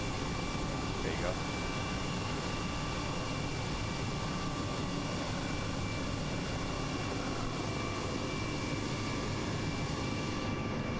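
A helicopter flies over the Great Barrier Reef in Microsoft Flight Simulator, its engine and rotor giving a steady, unbroken drone throughout, with talk over it.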